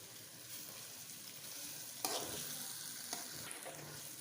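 Okra (bhindi) fries in a pan over low heat, giving a steady soft sizzle with occasional scraping stir clicks, faint and close, with no talking.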